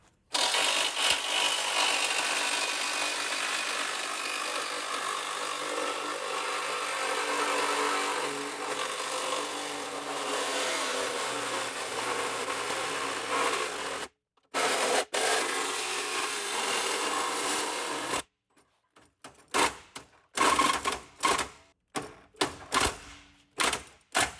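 A power saw blade cuts through the damaged body and frame of a supercharged Corvette C5 Z06, a loud continuous grinding rasp for about fourteen seconds, then short bursts and stops as the blade binds.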